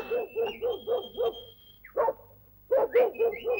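A dog barking in an old Turkish film, a quick run of five yaps, a pause with a single bark, then another rapid burst, close and clear against a quiet background.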